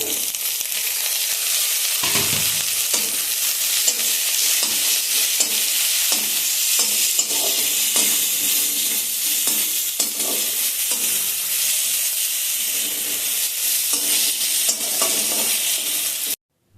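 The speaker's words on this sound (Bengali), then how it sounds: "এখন ভেজে রাখা টমেটোটাও দিয়ে দিচ্ছি।" Fried tomato stirred into mung dal in a pan, a constant loud sizzle with repeated scraping stirs throughout, cutting off abruptly at the end.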